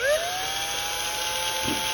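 Small rotary drill boring one small hole through a tumbler, held steady with no pressure; a thin high whine that rises briefly at the start, then holds a steady pitch with a faint low knock near the end.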